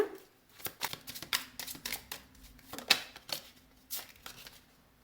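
Tarot cards are handled and laid out on a table in a series of close, quick papery flicks, slaps and shuffling riffles, irregularly spaced against a quiet background.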